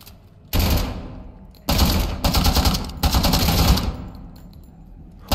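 Automatic gunfire in an SCP water treatment video game comes in three or four loud, sharp bursts, each a rapid rattle of shots with short gaps between, the last burst cut off at the end.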